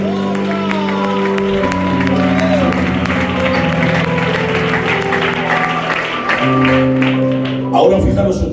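A church congregation in Granada claps together at a service, the applause sustained and fairly loud across the whole stretch, mixed with music and voices.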